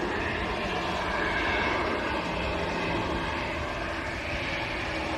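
EasyJet airliner lined up at full runway length at Manchester Airport and taking off for Geneva, a distant, steady engine roar with a faint whine, low in level and unbroken for the whole stretch.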